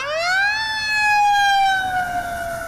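An emergency vehicle siren wails close and loud in a single long rising then gently falling tone, rushing toward a Christian school in Madison, Wisconsin, with a rumbling traffic background.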